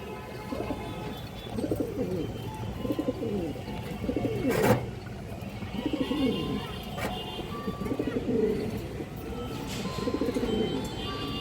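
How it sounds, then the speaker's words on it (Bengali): A China Khaki female pigeon gives repeated low, rolling coos in a steady rhythm, close and moderately loud, while someone talks over them. "চায়না খাকি মাদি কবুতর"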